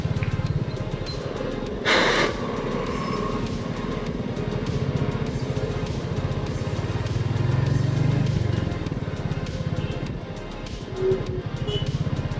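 A motorbike rolls through a toll plaza on the road to Kelshi, its engine a steady close rumble throughout, with a brief burst of noise near the start and other traffic murmuring around it.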